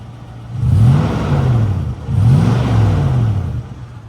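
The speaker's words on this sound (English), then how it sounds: "You can hear that MagnaFlow exhaust." The V8 engine of a 2006 Toyota 4Runner with a loud MagnaFlow exhaust revs twice nearby, each deep throaty rise swelling and falling back to a rumbling idle.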